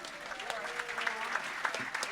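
Moderate clapping from a small audience at a local music festival show, with continuous but fairly soft applause and a few sharper claps standing out over a short stretch.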